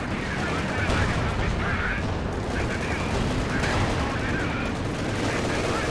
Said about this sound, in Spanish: se me dispara por la espalda el otro Panther